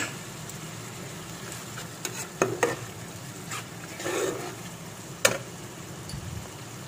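A masala with Kashmiri chili powder and salt fries quietly in a pan for rohu fish kalia, a low, gentle sizzle with a few sparse stirring scrapes and one sharp click.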